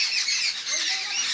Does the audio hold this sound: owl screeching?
yes